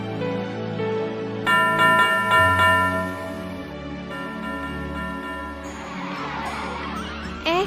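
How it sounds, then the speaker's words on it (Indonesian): A school bell rings out in several bright, repeated strikes, then lingers as a ringing tone over a low, steady hum. "Kamu dengar suara lonceng nggak?"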